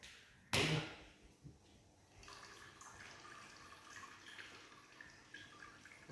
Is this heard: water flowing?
yes